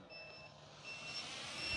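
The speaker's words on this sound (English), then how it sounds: "That's our voltage alarm. I hope you guys can hear it." Low-voltage alarm on the 4S 2200 mAh battery of a Durafly Carbon Arcus 1000mm RC glider, sounding as steady high-pitched beeping tones over wind and background noise, fairly faint.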